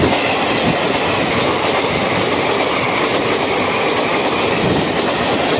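Train rolling past steadily at close range behind a WAG9 electric locomotive from the Kanpur shed, with continuous loud rumble and clickety-clack of wagon wheels over rail joints and no voices.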